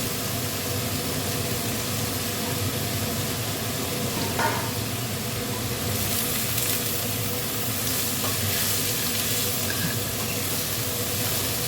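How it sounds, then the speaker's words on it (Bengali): Vegetables frying in a pan for khichdi give off a continuous, even sizzle, with occasional stirring scrapes and a faint splash of water, close and steady with no talk. "এদিকে সবজিটা ভাজতে ভাজতে অর্ধেক সেদ্ধ হয়ে যায়"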